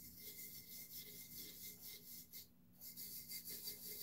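Steady hand-rubbing of double-sided tape onto a tumbler, a soft continuous scraping texture that repeats in short strokes with a brief pause midway, quiet and alone.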